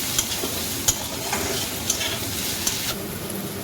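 Fried potatoes tip into a pan of ridge gourd cooked with turmeric and green chilli for a fish-head dish, bringing a steady, close sizzle broken by the light scrape and clink of stirring.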